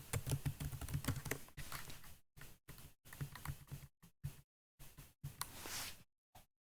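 Quick, light keystrokes on a computer keyboard, close and fairly faint, in short irregular bursts separated by brief silences.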